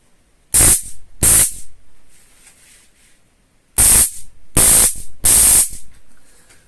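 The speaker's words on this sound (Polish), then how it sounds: "Sądząc po dźwięku, bo już sobie nieraz się bawiłem paralizatorami o większej lub mniejszej mocy, e, to tu może być całkiem przyzwoite kopnięcie" A Blackfire Shock XTR stun baton flashlight fires in five short, sharp crackling electric bursts, two then three after a pause, loud and close with near silence between.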